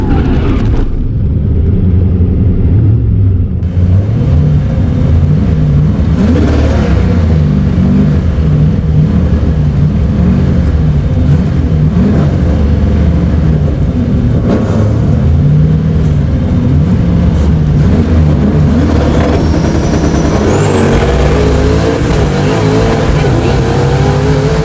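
A drag car makes a full pass down the strip, its engine roaring loud and continuous, rising through the gears before easing off near the end. Someone talks over the engine noise at points.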